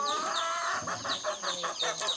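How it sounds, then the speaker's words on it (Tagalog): Outdoor flock of chickens and ducks, with rapid repeated clucking and squawking calls close by, several birds overlapping in a steady, lively din with no talk. "Tingnan niyo ang mga pato at manok dito."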